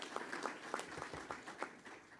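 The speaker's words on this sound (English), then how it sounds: "Yes, let's give them a round of applause." Sparse, faint clapping from a small audience at a cabinet retreat greeting public enterprise CEOs, a handful of distinct hand claps spaced irregularly over a quiet room for about two seconds.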